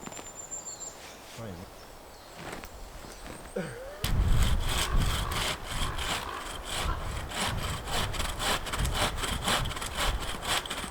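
Hand saw cutting firewood at a woodland camp in Wales, quiet at first, then steady rhythmic back-and-forth rasping strokes close by, with faint birdsong in the background.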